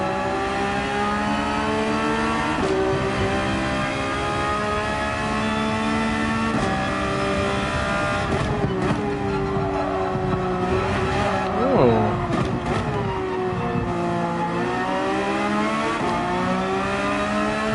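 Race car engine in Gran Turismo 7 at Interlagos, revving steadily with shifting harmonic pitch through gear changes, a brief tire squeal partway through, continuous and loud throughout the whole stretch.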